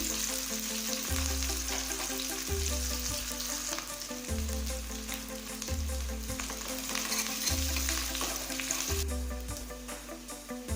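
Curry leaves, green chili and ginger fry in hot oil for tempering a black urad dal porridge, a steady close sizzle punctuated by regular thumps of stirring, with no voices.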